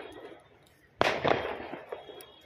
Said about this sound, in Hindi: पार्क का सामने फटा रहा है पटाखा